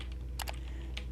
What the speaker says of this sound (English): if you go here and you type in